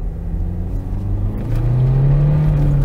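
A car drives close by and revs, its loud rumbling engine climbing sharply in pitch midway as the throttle opens.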